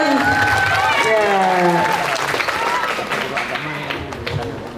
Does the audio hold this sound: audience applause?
yes